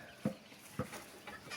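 Chickens in a small homemade coop give a couple of soft, low clucks spaced apart, faint and distant against a hissy background, with no talk during them.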